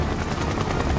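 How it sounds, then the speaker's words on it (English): Helicopter in Final Fantasy 7 Rebirth, heard as a steady, loud rotor thump with a dense roar that fills a brief moment. "Oh, I can hear the helicopter."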